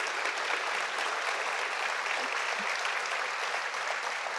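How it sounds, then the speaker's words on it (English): An audience applauds steadily for the guest speaker at an ocean-photography talk, a dense, even wash of clapping throughout, no voices. "Can we all give a round of applause for Shane?"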